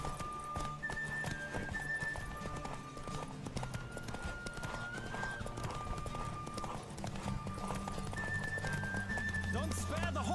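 A horse gallops hard in a race in The Witcher 3 game, rapid steady hoofbeats with a neigh near the end, under music and speech.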